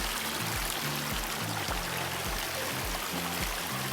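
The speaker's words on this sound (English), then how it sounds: "We're crossing a creek." A creek on the Mt. Wilson trail out of Sierra Madre in June: steady rushing flow close by, an even wash of water noise with a low rumbling undertone throughout.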